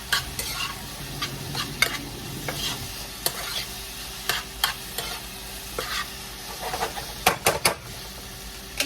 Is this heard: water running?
no